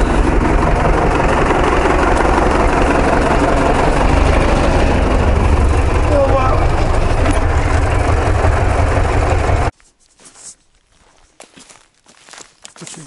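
A heavy tractor engine rumbles loudly and steadily for several seconds, then cuts off abruptly, leaving scattered faint clatters and movement.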